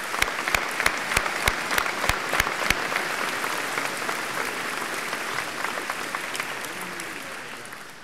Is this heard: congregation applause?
yes